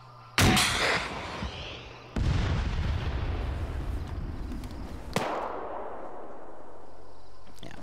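Heavy gunfire and booming blasts in a military video game arrive in loud bursts, each one trailing a long rumbling decay. No voices are heard.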